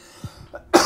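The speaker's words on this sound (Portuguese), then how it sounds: "Deu uma tossida." A single short cough in a horror video game, a brief throaty burst near the end after a few faint low thumps in near silence.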